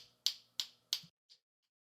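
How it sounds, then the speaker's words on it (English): Three sharp finger snaps in quick succession, crisp and close, followed by a softer fourth snap in a quiet room. "I'm snapping my fingers. You can hear it there."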